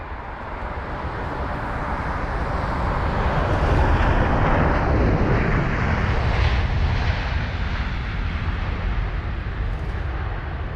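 A Delta Airbus A330 airliner landing at London Heathrow, its engines giving a continuous loud roar that swells toward the middle and holds steady for about ten seconds, with no voices over it.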